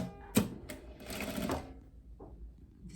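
A sewing machine stitches the facing of a loose batwing blouse in short, close bursts of rapid mechanical whirring, with a quieter clatter near the end.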